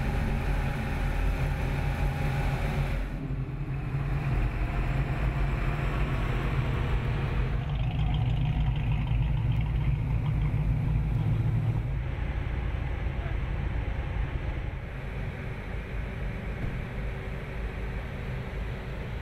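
Ford Mustang Roush police car engine running steadily at idle, a constant low rumble heard from inside the car with a wash of broadband noise and slight shifts in tone, no speech.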